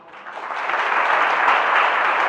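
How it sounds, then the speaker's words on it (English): An audience at a World Blood Donor Day event in Kohima breaks into applause, a dense wash of many hands clapping that swells quickly and holds steady, fairly loud and without talking. "So shall we give them a round of applause?"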